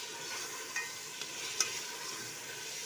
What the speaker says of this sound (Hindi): अब मैं गोश्त को भून लूँगी।